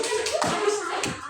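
Children applauding in a classroom, a brief patter of hand claps mixed with faint voices in the room.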